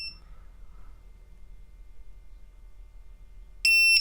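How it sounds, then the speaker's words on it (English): A ViFly Finder buzzer on a model aircraft bursts into a loud, piercing continuous beep at the very end, after a quiet stretch with only faint low hum and a brief soft chirp at the start. "Okay, it's beeping just a little bit."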